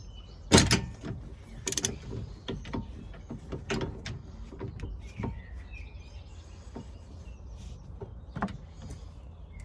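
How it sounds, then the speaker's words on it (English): A ratchet works on a Vauxhall Astra H steering tie rod, giving a series of close metallic clicks and scrapes with irregular spacing, loudest early on and then fading to quieter mechanical rattles. "we'll get the ratchet in there, and then hopefully we can get it in"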